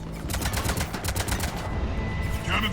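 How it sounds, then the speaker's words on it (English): Ship cannons firing during the assault on Omega in Mass Effect 3, a fast string of sharp, evenly spaced shots through the first half that thins out and fades under a low rumbling background. "Cannons engaged."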